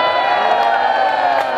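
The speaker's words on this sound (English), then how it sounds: "you're cheering wildly." A crowd cheers and shouts continuously at a life-size mouse trap contraption at Maker Faire Detroit, a dense, loud wash of voices with whoops poking through.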